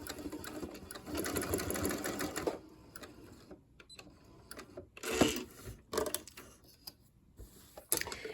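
Sewing machine stitching a seam on a bag pocket, running in bursts: a long stretch of steady mechanical whirring, then pauses and shorter runs as the stitching stops and restarts, with clicks between.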